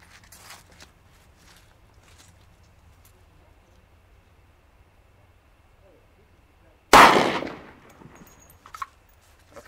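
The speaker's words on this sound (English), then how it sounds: "Let's try the Glock 10mm with our 155 grain" Glock 10mm pistol firing a 155 grain XTP round into ballistic gel: one loud, sharp outdoor report with a short decaying echo, after quiet shuffling and faint movement.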